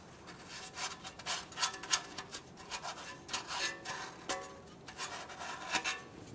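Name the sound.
fine sandpaper cleaning O2 sensor mounting point on manifold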